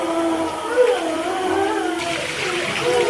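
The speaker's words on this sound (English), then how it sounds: "And use cold water because warm water kind of like cooks it." Cold tap water running steadily to rinse shrimp in a kitchen, a continuous loud splashing hiss that gets brighter partway through as the flow changes, with no speech.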